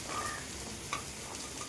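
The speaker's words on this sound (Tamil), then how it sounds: "வெங்காயம் போட்டுட்டு நல்லா வதக்கிட்டு பச்சை மிளகாயை போட்டுருங்க." Onions sizzle as they sauté in a pan for Madras chicken: a soft, steady frying hiss that stays faint throughout, with a brief stir or pop near the middle.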